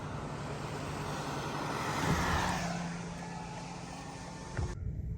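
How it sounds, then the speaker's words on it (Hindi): Steady street traffic in a Canadian town during rain, a continuous broadband rumble of cars and engines at moderate distance that swells slightly midway, then cuts off near the end. "ट्रैफिक जाम हो गया भाई"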